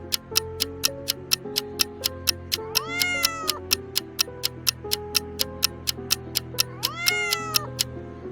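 A cat meows twice with drawn-out, rising-and-falling calls over a steady, rhythmic clock-like ticking and a soft musical backing.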